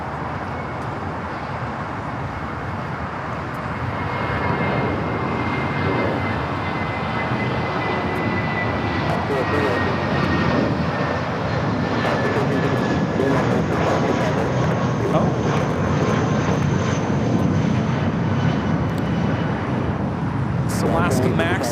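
An Alaska Airlines Boeing 737 Max jet airliner at LAX, a loud, broad roar of jet engines that holds steady and swells slightly throughout, with a faint high whine riding on top.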